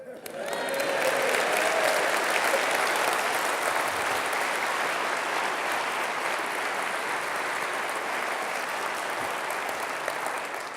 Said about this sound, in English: I knew that would get the biggest cheer